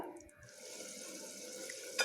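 Water poured into beetroot kurma in a cooking pan, a steady close splashing rush that runs for about two seconds with no voices.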